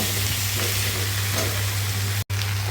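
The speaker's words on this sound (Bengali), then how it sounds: "আলুগুলো দেওয়ার পরে এটাকে আবার চার পাঁচ মিনিট করে কষিয়ে নেব" Potatoes fry with tomato, green chili and spices for a Bengali vegetarian aloo dum, a loud, dense, continuous sizzle close by with a low steady hum beneath. It plays alone and has one very brief dropout.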